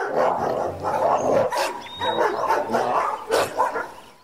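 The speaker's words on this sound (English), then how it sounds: "Their blood-curdling barking echoed through the village." Several dogs bark in a rapid, overlapping burst, close and loud, with yips between the barks.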